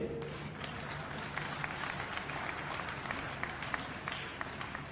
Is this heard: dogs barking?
no